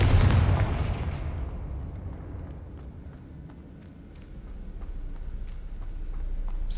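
Confringo fire spell blasts in the video game Hogwarts Legacy, a loud booming explosion at the start that decays into a rumbling tail, then low rolling rumble with faint pops.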